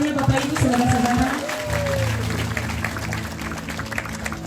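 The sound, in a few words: applause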